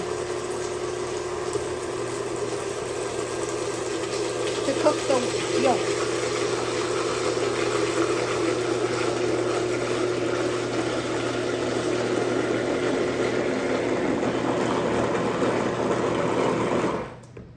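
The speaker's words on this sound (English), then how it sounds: "What I'm going to do is turn the blender on low and slowly drizzle this in" Blender running on low speed while hot liquid is slowly drizzled in for custard, a steady whirring motor hum throughout with a person talking over it.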